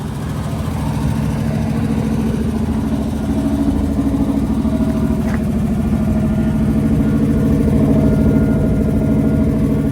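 A stock 1969 Camaro with no headers, a two-barrel carburetor and a single exhaust idles nearby, giving a steady, even low rumble that holds without revving for the whole stretch.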